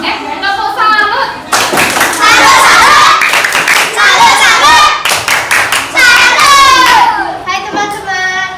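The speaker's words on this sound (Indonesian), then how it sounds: "Tepuk salut." A school class performs a salute clap together, with loud rhythmic bursts of patterned clapping mixed with children's voices chanting and calling along, broken by short pauses.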